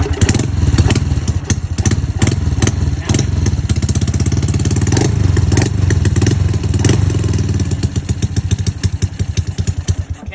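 A motorcycle engine running loud and close, a steady rumbling idle with uneven chugging pulses and a few small revs, no voices.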